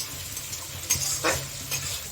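Ginger-garlic paste and masala fry in a pan for a chicken dish, giving a steady close sizzle broken by a few scraping stirs of a spatula.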